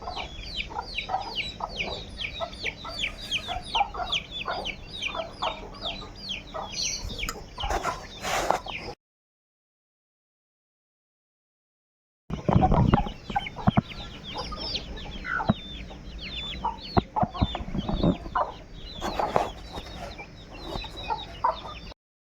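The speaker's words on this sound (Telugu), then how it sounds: "ఇవే ఫ్రెండ్స్ మన కోళ్ళు" Chickens cluck in busy, overlapping bursts, close by and fairly loud, with a short silent gap partway before the clucking resumes.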